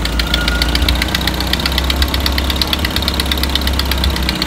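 A mini truck engine fitted with Holley Sniper fuel injection runs steadily, with a loud, continuous low rumble and a knocking idle and no other sounds. It has a cracked header and poorly sealed block-off plates.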